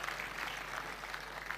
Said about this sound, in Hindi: आप जोरदार तालियां बजाकर मंच के कवियों का स्वागत करें